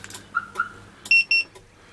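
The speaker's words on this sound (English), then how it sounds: "It's got the two-way alarm." Two quick electronic chirps sound close by from a two-way car alarm in a 1970 Pontiac Catalina, followed by a pair of brighter, slightly longer beeps, crisp and clear against quiet.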